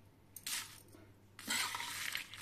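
Spoon stirring a tempering of dried red chillies and curry leaves in a pan for tamarind pickle, two short bursts of faint scraping and clinking with quiet in between.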